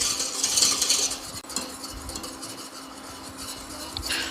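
A whisk stirs a sugar mixture heated almost to a low boil in a pot, with close, scratchy scraping and light metal clinks that come in uneven strokes.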